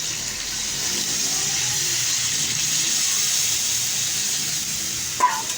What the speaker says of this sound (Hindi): अब मैं इसके अंदर पानी डालूँगी